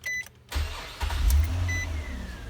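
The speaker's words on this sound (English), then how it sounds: "I'm just going to roll the key and see what happens." A Nissan Maxima, just fitted with a new alternator, starts on the key: a brief starter whir, then the engine catches and settles into a steady, close idle hum.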